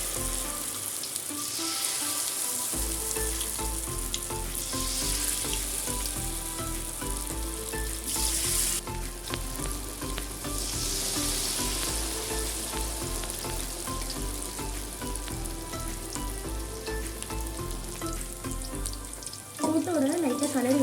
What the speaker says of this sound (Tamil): ஆயில் சூடானதுக்கப்புறம் போடுங்க. அப்படியே கிறிஸ்பியாக வரும்.